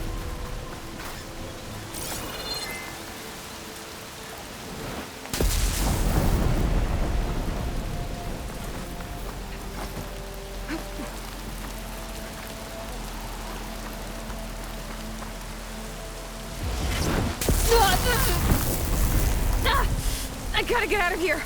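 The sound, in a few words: thunderstorm with rain in video game Horizon Forbidden West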